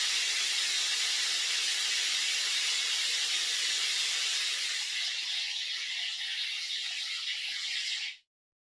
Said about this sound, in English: it's a stream of water with white noise